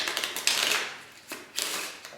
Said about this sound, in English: then I get into the normal shuffle